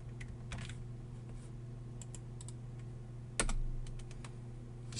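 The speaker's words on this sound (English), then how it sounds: "So for the next command, we will type copy tftp flash." Close computer keyboard typing as a Cisco ASA upgrade command is entered, scattered quick key clicks in short bursts with a brief louder cluster midway over a faint steady hum, no talk.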